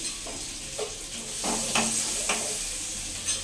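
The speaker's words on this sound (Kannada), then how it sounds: "ಈರುಳ್ಳಿನ ಹಾಕೋತೀನಿ. ಈರುಳ್ಳಿ ಫ್ರೈ ಆಗಿದ ತಕ್ಷಣ ಸ್ವಲ್ಪ ಕರಿಬೇವಿನ ಸೊಪ್ಪನ್ನ ಹಾಕೋತೀನಿ." Onions fry in hot oil in a home kitchen as a spoon stirs them, giving a soft steady sizzle with a few brief scraping strokes, close and without talk.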